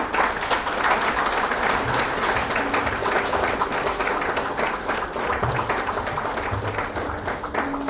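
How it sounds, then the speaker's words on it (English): A large crowd gives a big, sustained round of applause to welcome the Seva Rural team at a live event, dense, even clapping that stays loud for nearly eight seconds. "please welcome them with a huge round of applause"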